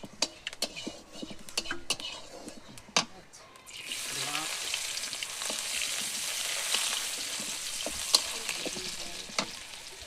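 Panch phoron spices and onion frying in hot oil, a few sharp clinks and taps of a utensil at first, then a loud steady sizzle that rises after a few seconds and continues close up with occasional scraping.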